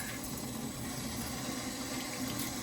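Cold water runs steadily from a tap while raw shrimp are rinsed for a stir fry, a constant close splashing hiss with no pauses and no talking over it.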